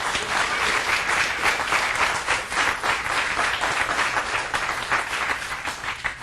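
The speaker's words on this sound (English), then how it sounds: "let's give them a round of applause" An indoor audience at a bookstore event applauds steadily, dense overlapping clapping from a crowd filling the room, sustained and even for several seconds without talk.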